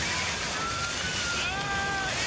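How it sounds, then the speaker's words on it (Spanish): Ocean surf rolls in a continuous, steady wash of broadband noise, with wind buffeting and faint tonal whistles drifting through the middle of the clip. "Enormes olas asesinas de una fuerza inimaginable."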